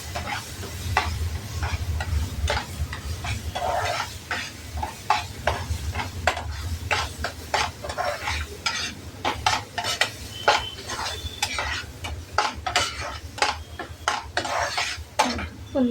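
Mango pulp sautéed in a pan for sweet mango sheera, with dense metal scraping and clinking of a spoon stirring against the pan over a low continuous sizzle, close and steady throughout.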